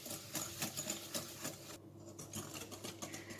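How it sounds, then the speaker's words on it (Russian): Whisk beating three chicken eggs with sugar in a bowl for a fruit pie batter, a fast, steady rhythmic scraping and clicking that continues throughout at close range, with no talking. "К яйцам добавляем сахар и хорошенько теперь все это дело растираем венчиком."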